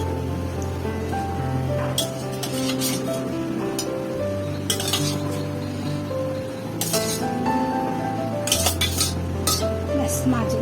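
Pieces of hilsa fish slipped one by one into a pot of simmering curry, with clinks of a utensil against the pot over a steady bubbling, low hum nearby.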